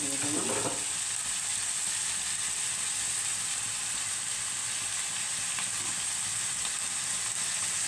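Chilled meat for Hyderabadi biryani frying in a hot pan, with a loud, steady, dense sizzle running throughout and a brief clatter near the start.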